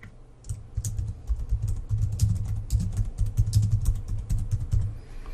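Rapid keystrokes on a computer keyboard, a dense run of close, crisp clicks typed steadily for several seconds over a low background hum.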